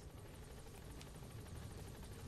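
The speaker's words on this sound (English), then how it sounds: "Get in the helicopter." Helicopter in the video game Metal Gear Solid V: The Phantom Pain, a steady rotor whir with a constant engine drone, heard alone and fairly quiet.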